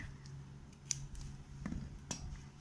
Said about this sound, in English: And this remaining flap also you have to cut it